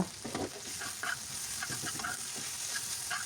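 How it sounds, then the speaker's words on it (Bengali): A vegetable fry gets stirred in a hot pan after coriander leaves go in, a close, continuous sizzle with light scraping and tapping of a spatula over the hiss. "ধনে পাতা দিয়ে একটু নেড়ে চেড়ে নামিয়ে নিচ্ছি"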